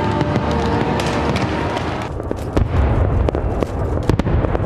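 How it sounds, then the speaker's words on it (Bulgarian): Fireworks over the Acropolis in Athens crack and pop in rapid bursts, dense and loud, with overlapping booms and crackles rolling continuously. "Разноцветни фойерверки полетяха към небето над Акропола в Атина"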